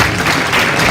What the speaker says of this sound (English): Let's give that young lady a good round of applause